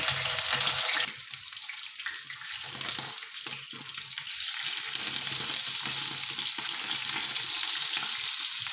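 Sausage frying in a pan, a steady close sizzle and hiss that dips briefly then builds back to a constant crackle, with no talking over it.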